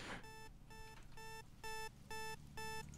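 An alarm clock rings in a döner shop game at night, sounding five evenly spaced bursts of bright electronic beeping over a low background hum, with no voices.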